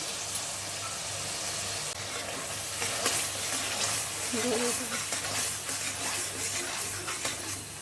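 A masala paste of tomato, ginger, melon seeds and cashew sizzles and fries steadily in a pan, with a continuous hissing crackle and occasional stirring scrapes, with no talking.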